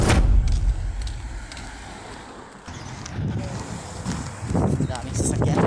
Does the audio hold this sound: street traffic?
yes